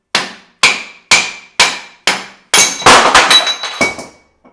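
Hammer blows knocking the pinion out of a GM 8.2 10-bolt rear axle: five evenly spaced, loud metallic strikes, then a burst of rapid clattering hits and ringing clinks as the part comes free, close by with no talk.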